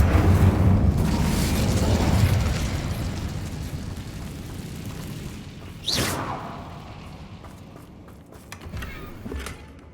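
Incendio fire spell cast in Hogwarts Legacy, a loud roaring whoosh that fades over a few seconds, then a sharp bright burst partway through and softer rumbling after, with no talk.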